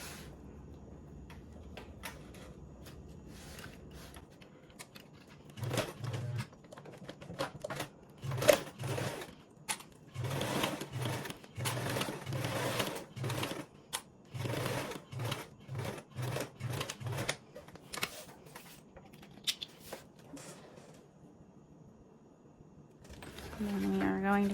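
A sewing machine basting a zipper onto fabric runs in short bursts of rapid close stitching with pauses between them, while a person talks at intervals.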